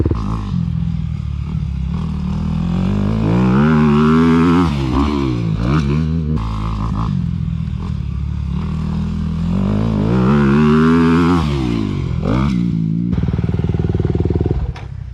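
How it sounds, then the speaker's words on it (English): A Honda motocross bike rides and jumps on a dirt track, its engine loud and close, revving up and down in repeated swells with throttle blips and a sharp clattering rasp throughout. "This bike pulls strong."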